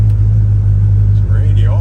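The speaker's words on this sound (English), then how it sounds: "You can hear the heater fan." The heater fan of a 1984 Dodge Power Ram 150 runs inside the cab as a steady, loud blowing hum with a deep constant drone beneath it, unbroken throughout.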